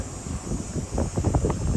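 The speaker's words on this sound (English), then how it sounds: "Right now it's windy." Wind buffets the microphone by a lake with low, uneven rumbling gusts that swell and fade over a steady background hiss.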